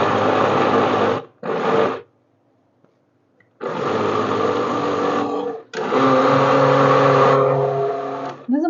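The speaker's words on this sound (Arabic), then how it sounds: "انا هضربه بقى في الخلاط كده لمدة 5 دقايق." An electric blender runs loudly on egg batter with flour, starch and sugar for simple biscuits, in two short bursts, then a pause and two long steady runs, with no voices.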